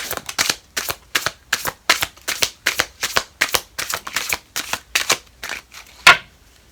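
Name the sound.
shuffling a deck of tarot cards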